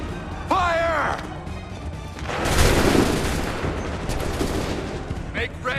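Musket volleys ring out in Assassin's Creed 3, with a loud massed crack that rolls into sustained crackling fire and booms. Shouted voices are heard over the fire.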